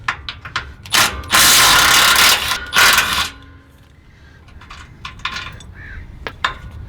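A ratchet works a 14 mm bolt loose from the sway bar bracket of a Toyota Tacoma. Loud bursts of rapid ratcheting clicks come up close, followed by softer scattered metallic clinks.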